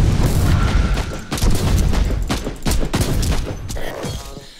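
Rapid gunfire mixed with grenade blasts from Warhammer 40,000: Inquisitor - Martyr, dense repeated bursts and booming thuds filling the stretch at steady loudness, with no talk over it.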